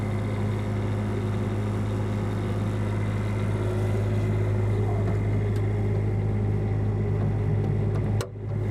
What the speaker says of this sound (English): This is a hydraulic pump that's gonna raise our jacks, our leveling jacks.